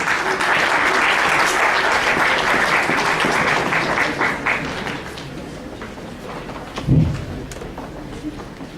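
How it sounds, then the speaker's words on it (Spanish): A crowd at an academic lecture in Bolivia claps loudly and continuously, the applause thinning out after about five seconds into scattered claps and a low thump near the end. "Lo recibimos con un aplauso, por favor."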